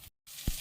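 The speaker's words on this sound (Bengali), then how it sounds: "বেগুন ভাজবো।" Slices of eggplant frying in a pan give a steady, close hiss of sizzling oil that cuts out for a moment, then returns with a soft low thump as it resumes, with no talking.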